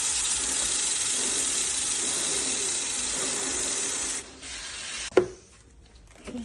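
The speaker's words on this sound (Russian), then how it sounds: "беру смазку цепи и наношу на ролики" Aerosol chain lubricant sprayed onto the rollers of a motorcycle chain during post-ride cleaning, a steady close hiss for about four seconds, then a brief clatter and quiet handling noises.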